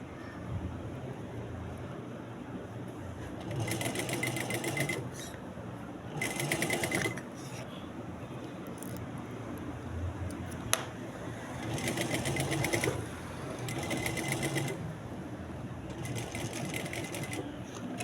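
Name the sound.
sewing machine stitching the back neck of a garment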